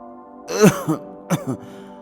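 A man gives two short, harsh coughs or throat-clearing bursts, one near and moderately loud, the second briefer, over a steady low hum with no talking.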